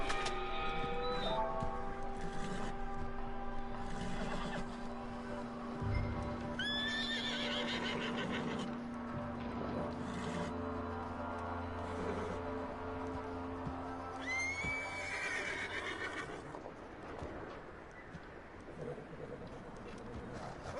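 In a scary video game, a horse neighs and whinnies in two loud bursts, with steady clip-clopping hooves, under ongoing game sounds and occasional talking.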